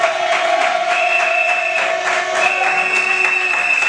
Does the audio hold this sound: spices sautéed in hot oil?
no